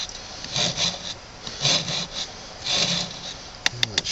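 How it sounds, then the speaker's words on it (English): A knife scrapes along wood during a bushcraft clean-up, repeated rasping strokes in a steady rhythm, loud and close, ending with a few sharp clicks. "Drive my knife in there so it's safer than scraping the knife along the stuff."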